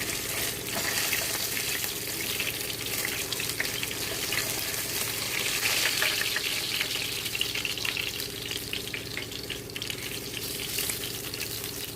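Masala-coated fish fries in hot oil in a pan, a steady loud sizzle and crackle running continuously with no talking.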